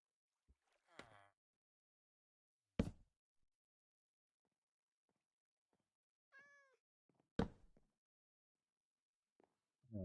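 A cat meows once in Minecraft survival, a short clear call in the middle of a quiet stretch broken by a few loud clicks and thumps from the game.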